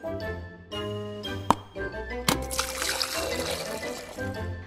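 Water pours into a glass with light clinks and a trickling, bubbling splash that swells as it fills, heard close and fairly quiet against a faint musical backdrop.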